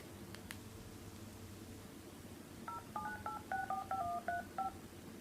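A phone number being keyed in: about a dozen quick two-tone dialing beeps in an uneven rhythm, clear and close over a faint hiss, following a few soft clicks.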